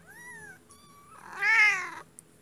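A small cat meows several times: two short mews, then a longer, louder rising and falling meow, close and clear against a quiet background.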